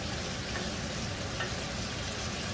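Lobster pieces sizzle and fry steadily in a hot wok, a dense continuous crackle held at an even level for a couple of seconds with no voices.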